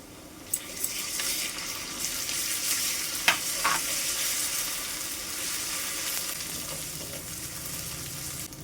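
Garlic paste frying with browned onions in a pan, a steady low sizzle with a couple of sharp clinks and faint running water behind it, moderately quiet with no voices.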